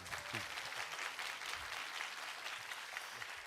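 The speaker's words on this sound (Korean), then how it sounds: "주용은 집사님을 박수로 환영해 주십시오" A church audience claps in welcome for a guest, a steady, even burst of applause from many hands filling the hall, with no talking over it.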